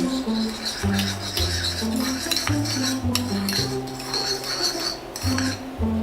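Metal spoon stirring baking soda into water in a bowl, a steady run of clinking and scraping strokes against the sides with a rhythmic ringing tone, close and moderately loud.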